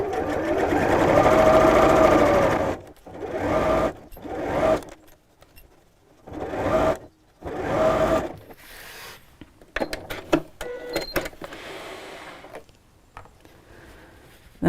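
A sewing machine stitches a seam on a simple fabric storage pouch, running in several loud bursts of steady whirring with short pauses between runs, followed by quieter handling clicks and rustles near the end.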